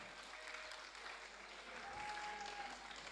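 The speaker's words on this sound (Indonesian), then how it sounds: "Tepuk tangan untuk Abi dan Pondok Pesantren Az-Zikro." Audience clapping in tribute to the Az-Zikro Islamic boarding school (pondok pesantren) in Banyuwangi: dense, steady applause from a crowd, holding at an even level for the whole stretch without speech.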